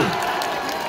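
A stadium crowd at an Indonesian civil servants' corps anniversary concert claps and cheers loudly, a dense wash of applause with scattered shouts throughout.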